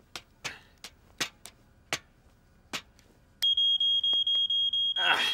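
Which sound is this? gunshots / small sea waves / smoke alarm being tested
smoke alarm being tested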